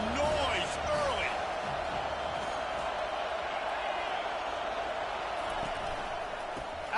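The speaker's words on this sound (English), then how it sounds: "This crowd bringing the energy and noise early." A Penn State football stadium crowd sends up a steady, continuous roar at an Indiana game, its wide wash of noise holding throughout while a commentator's voice runs faintly underneath.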